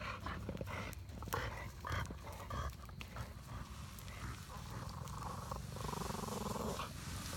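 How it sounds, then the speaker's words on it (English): Dogs growling and grumbling in a low, rumbling tug-of-war over a stick, bursts of throaty snarls rising and falling close by and fairly faint, with no talk over them. "Listen at their little growls."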